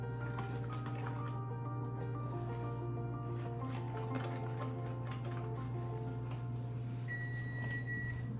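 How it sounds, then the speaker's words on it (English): An electronic beep sounds near the end as an oven signals it has finished preheating, a few short tones over the steady hum and small noises of a home kitchen. "And there goes the oven for being preheated"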